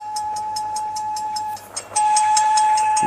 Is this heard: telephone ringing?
no